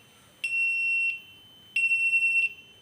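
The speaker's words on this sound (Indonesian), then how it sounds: "buzzer kanan kiri menyala" Left and right buzzers of a ship's bridge navigational watch alarm system sound in two loud, steady, high-pitched electronic tones, each lasting roughly half a second to a second, with a short gap between them and no talk.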